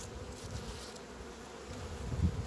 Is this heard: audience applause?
no